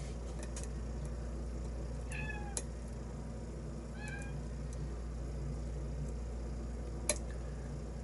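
A cat meows a few times, fairly faint and high-pitched, over a steady low hum and soft background noise, with a couple of small clicks from lock picking nearby.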